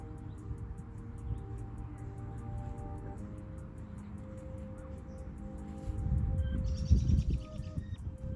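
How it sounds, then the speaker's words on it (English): Faint birds chirp in the distance over a low outdoor rumble along a trail in Canada, with a brief burst of louder rustling toward the end. "Chirping of the birds."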